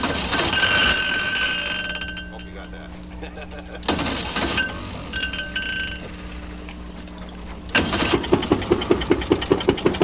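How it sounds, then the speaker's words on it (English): An electric-start St. Lawrence engine cranks and fires up, with the starter's whir and clanks giving way to rhythmic, evenly spaced exhaust chuffs; a voice talks over parts of it. "This is the electric start St. Lawrence engine."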